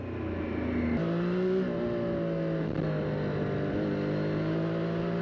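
A Triumph Street Triple 765 RS engine drones steadily while riding, its pitch stepping up with a gear change, loud and close with no talking.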